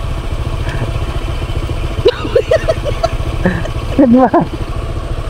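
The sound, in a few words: motorcycle engine running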